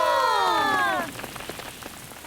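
Rain patters steadily on a surface, following a short fading tonal sound at the start.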